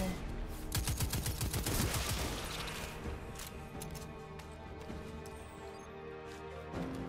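Shotgun blasts and gunfire erupt in Destiny 2 during a boss fight, with dense rapid shots loudest in the first few seconds, then a continuous roar of combat sound and effects carrying on steadily.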